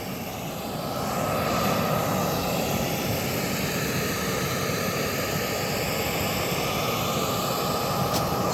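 Aircraft engines at Varna Airport make a loud, steady broadband roar that swells within the first second and then holds unbroken and close.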